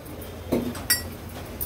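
A spoon clinks a few times against a metal pot of boiling rice with a spoonful of ghee, two or three sharp close taps over a soft background.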